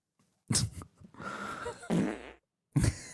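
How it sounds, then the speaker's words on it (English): Several short, close puffs of flatulence-like noise arrive in irregular bursts, the middle one longer and rumbling, with quiet gaps between. "Ooh, small fart."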